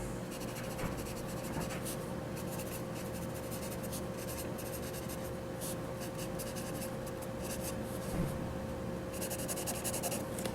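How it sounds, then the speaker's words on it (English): A Guatemalan pencil writing on paper makes a continuous dry scratching and rubbing sound, close and steady throughout, with short bursts of quicker strokes. "How does it write?"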